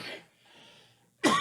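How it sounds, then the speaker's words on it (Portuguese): A woman wearing a face mask during a podcast lets out one loud, abrupt cough near the end, following a quiet stretch with faint background sound. "Eu pus a máscara naquela hora, agora começa a dar tosse."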